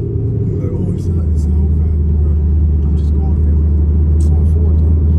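Inside a moving Ford Mustang GT, a deep, steady engine rumble and road drone fill the cabin, loud and constant, with people talking over it.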